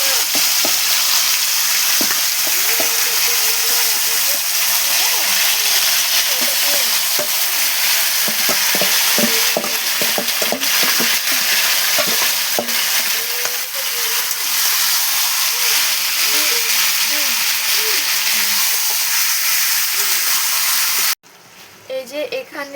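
Meat and potatoes frying in a pan, a loud, continuous sizzle with scattered crackles and stirring scrapes, close up, ending with a brief quieter moment.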